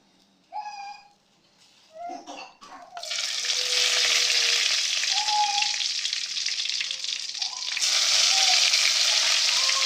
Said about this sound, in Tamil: எண்ணெய் நல்லா காஞ்சிருச்சு நம்ம வெந்தயத்தை ஆட் பண்ணிடுவோம்